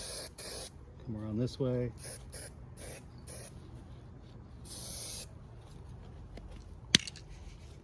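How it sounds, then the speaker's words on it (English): Aerosol can spraying etching primer onto a 1978 Datsun 280Z tail light bezel: a few short hissing bursts and one longer spray, close and moderately loud, with a person speaking briefly in between. "After one more coat of the etching primer, of course."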